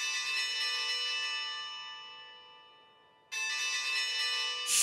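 Cartoon bell ringing for ripe bell peppers in a children's garden scene: a bright, sustained ringing tone that slowly decays, then a second fresh ring strikes and rings on alone.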